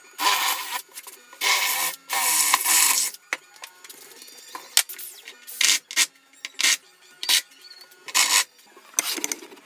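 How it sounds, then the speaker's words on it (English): A vise is mounted on a workbench in a home shop. Loud close bursts of scraping, rasping and ratcheting are broken by short pauses, with small knocks and clicks between them and no speech. "All right, let's get on with mounting this vise."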